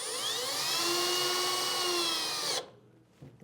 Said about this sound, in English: then we can drill this into place